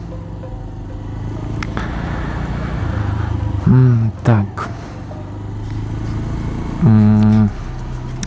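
Bajaj Pulsar 180 motorcycle engine running with a steady low hum throughout, punctuated by two short louder revs or surges, with a brief spoken word over it.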